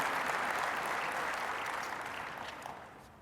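An audience at a 2022 Ford Maverick vehicle event claps together in a dense burst of applause that fades out gradually over a few seconds.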